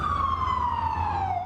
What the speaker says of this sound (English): Lights, sirens, and horns.